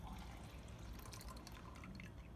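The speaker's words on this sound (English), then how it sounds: "typically when I strain, I pour into the large vessel first" Herbal cinnamon decoction poured through a strainer into a large vessel, a steady trickling, dripping liquid sound held close and fairly quiet for the whole stretch, with no talking.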